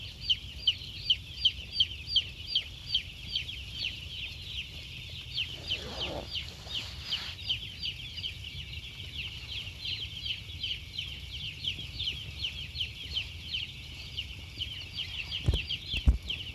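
A dense flock of broiler chickens in a brooder keeps up a continuous, rhythmic chorus of peeping and clucking under a steady high hum, with a brief low rustle partway through and a sharp knock near the end.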